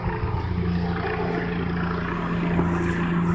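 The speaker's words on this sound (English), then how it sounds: "There's the helicopter." A police helicopter flies overhead above a house, its steady rotor and engine roar sustained and fairly loud throughout, with a constant low hum.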